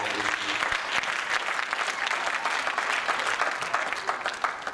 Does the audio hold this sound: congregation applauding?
yes